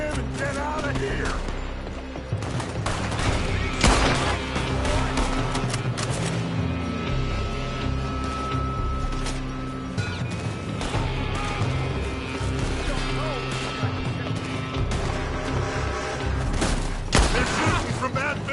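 Heavy gunfire rains down from a building in the Red Dead Redemption II video game, dense volleys of shots and loud impacts crackling continuously over a background music score, with sharper bursts around the middle and end.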